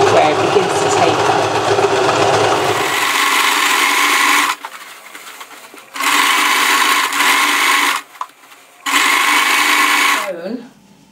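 A sewing machine runs steady bursts while stitching a new seam to take in a pair of pants legs, whirring loud and close for about four seconds, then pausing and restarting twice with quieter gaps between.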